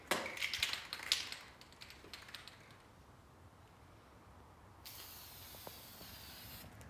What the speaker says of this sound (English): So anyways, you just spray it and then dip your shoe.